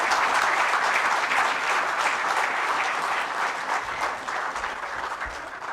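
A large audience claps steadily and loudly at an administrative service association event in Ranchi honoring the Chief Minister, a dense, even roar of hands sustained throughout with no voices over it.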